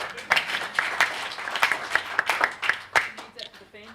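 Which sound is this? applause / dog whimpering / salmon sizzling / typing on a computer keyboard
applause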